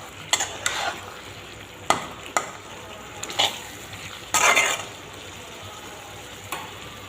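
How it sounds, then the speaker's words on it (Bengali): Spices fry in a wok while a spoon stirs them in short separate strokes, each a scrape or clink against the metal over a soft background sizzle, with pauses between and no one speaking. "ওইরকম একটু করে করে নাড়িয়ে দিতে লাগবো, নাইলে তো সব মশলা কড়াইয়ের মধ্যে লাগিয়ে যাইব"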